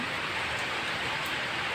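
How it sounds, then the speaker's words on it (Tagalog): Steady rain falling, a dense, even hiss that fills the whole stretch without pause, fairly loud and close, with no voices over it. "Umuulan-ulan na naman."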